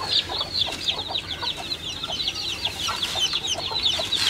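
A Kadaknath cross-breed country hen clucks in a steady run of short, repeated calls, fairly loud and close, with other chickens adding faint calls behind.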